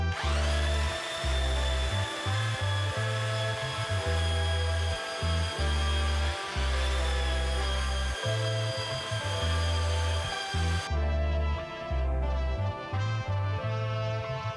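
A belt sander runs continuously on a wood panel held down with double-sided tape, a loud steady motor hum and abrasive rasp lasting throughout, with a brief change in tone near the end.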